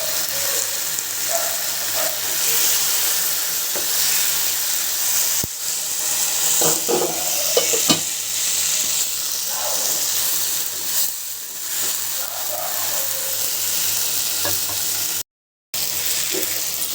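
Shoal (snakehead) fish being sautéed and stirred in a pan, a steady broadband sizzle throughout with intermittent utensil scrapes and taps, close and fairly loud, with a brief dropout near the end.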